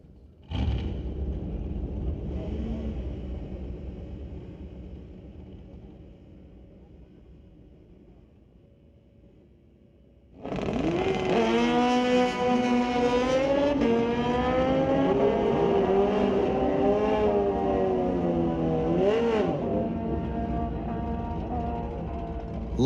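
Two drag racing motorcycles, an 05 Yamaha 998cc and a 2009 Kawasaki 1400cc, idle loudly at the start line, then launch together into a roaring, climbing wail as they shift gears down the strip at an NHRA Sportsnationals event.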